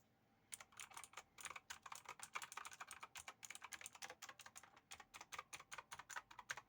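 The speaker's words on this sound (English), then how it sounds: "let's open a notepad or something and start typing" Rapid typing on an A+ Seth TGMS2 mechanical keyboard with clicky Blue switches, close and crisp, with steady bursts of sharp keystrokes after a brief quiet start, no voices.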